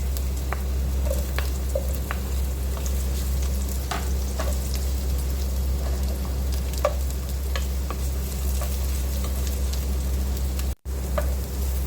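Garlic, ginger and onion sautéing in a pan for chicken tinola, a steady close sizzle with occasional spatula taps and stirring clicks, continuous and without talk apart from a brief dropout near the end.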